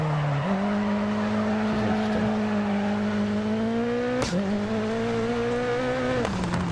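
Dirt Rally 2.0 rally car sliding through a handbrake drift, a steady loud engine drone with tire scrub holding throughout and a brief sharp burst near the end as the revs shift.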